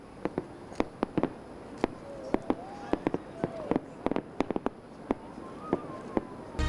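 Fireworks for the US Independence Day celebrations in Washington and New York, a scattered run of sharp pops and crackling bangs with a few rising whistles, irregular and moderately distant, with faint voices in the background.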